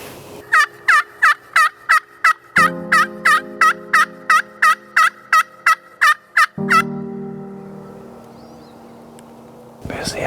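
Wild Merriam's turkeys in Montana hunting country give a long run of rapid, evenly spaced rattling gobble-like notes over a steady low engine hum, which then continues alone.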